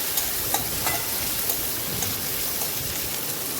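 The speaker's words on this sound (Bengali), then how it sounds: "টমেটোটা এবার একটু ভাজা ভাজা করবো।" Chopped tomato frying in oil with the katla fish head for a Bengali kaliya, stirred in the pan, producing a continuous close sizzle with light scraping clicks and no voices.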